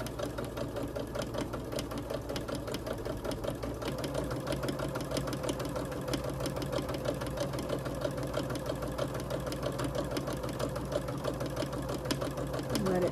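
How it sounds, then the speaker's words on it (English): Sewing machine running a quarter-inch seam on a quilt, a continuous close hum of rapid stitching throughout, with a person talking over it. "we're going to sew a quarter inch on this side of the line."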